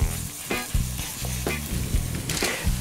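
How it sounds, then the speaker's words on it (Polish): Burger meat frying in a very hot pan, with a steady loud sizzle and crackle throughout, punctuated by several sharper thumps and scrapes as the patties are moved or pressed. "Patelnię mam już bardzo dobrze rozgrzaną. Mogę zacząć smażyć mięso."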